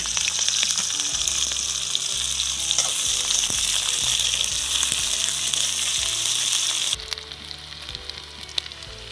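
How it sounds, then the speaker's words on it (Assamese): Loud, continuous sizzling of onion, garlic and chili frying in hot oil in a kadai, with scraping stirs throughout; the sizzle drops noticeably near the end. "এতিয়া তৰকাৰী বনাবলৈ কেৰাহী পাতি দিছোঁ পিঁয়াজ নহৰু জলকীয়া চব একেলগে দি দিছোঁ তেল গৰম হৈ গৈছে"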